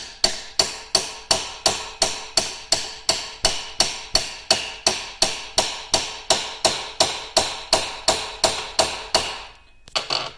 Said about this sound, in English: rest the U-joint cap down on the table and use our hammer and tap on the yoke